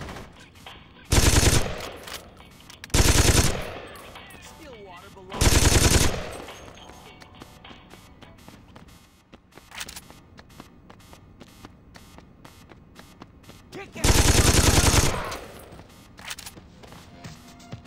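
Gunfire in the video game Saints Row 2, four loud bursts of automatic fire, each lasting about a second, spaced irregularly over a quieter background of engine hum and game ambience.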